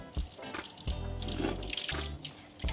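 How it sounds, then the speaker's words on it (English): Water runs steadily from a public mineral water fountain in Sofia, Bulgaria, as bottles are filled, a near, continuous splashing flow with brief pauses and a few knocks. "There's a guy right there literally filling up like 3 bottles behind you"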